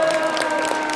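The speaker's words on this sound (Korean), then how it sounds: "다시 한번 목사님께 큰 박수 부탁드리겠습니다" Applause mixed with cheering from a crowd at a Korean political YouTube forum, a brief, loud and dense burst of clapping and voices.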